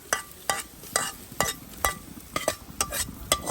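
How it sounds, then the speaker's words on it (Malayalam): Hot tempering is poured into cooked tapioca for kappa with beef and stirred in; a spoon scrapes and clinks in a steady rhythm of sharp strokes about every half second, over a faint sizzle, with no talking. "എന്നിട്ട് ഇത് നമ്മൾ ഡയറക്റ്റ് നമ്മുടെ കപ്പയിലോട്ടങ്ങ് താളിച്ചൊഴിക്കും"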